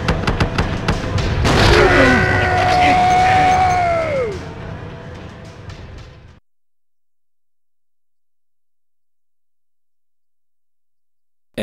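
A shotgun fires in Silent Hill 2 with a loud booming blast at about 1.5 seconds, followed by a sustained ringing tail that fades out by about 6 seconds and then gives way to silence.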